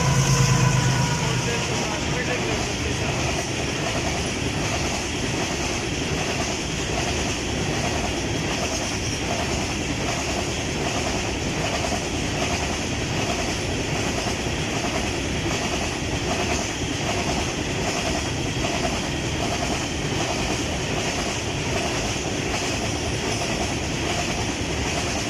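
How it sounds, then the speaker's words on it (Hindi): An up coal freight train hauled by a GU-class locomotive rolls through Meting railway station, loud and close, with a steady rhythmic clickety-clack of wagon wheels over rail joints that runs unbroken throughout. "ये वही फ्रेट ट्रेन है जो हमने गदर रेलवे स्टेशन पर"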